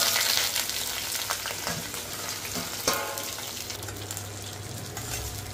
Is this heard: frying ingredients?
yes